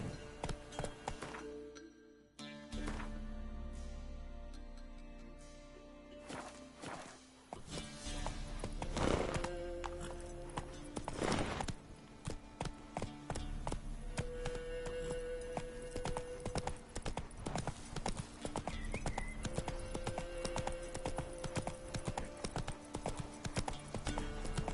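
Roach, a horse in the video game Witcher 3, gallops with steady, loud clip-clop hoofbeats that run almost the whole time, with a brief pause near the start and an occasional whinny.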